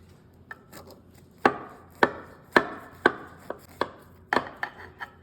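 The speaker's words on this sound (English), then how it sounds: "I'm gonna cut right into, oh, you hear that graham cracker?" A knife cuts down through a no-bake dessert with a crunchy graham cracker layer, producing about eight close, crisp crunching snaps in an uneven rhythm against a quiet background.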